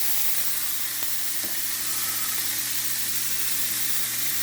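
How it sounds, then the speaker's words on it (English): A New York strip steak sears in garlic-infused oil in a pan, giving a loud, continuous hissing sizzle with faint pops throughout, close up and without talking. "Put a nice sear on it."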